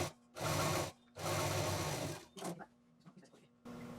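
A sewing machine double-stitches a folded fabric tote bag in two long, steady whirring runs, then gives a few short stop-start bursts before starting up again near the end.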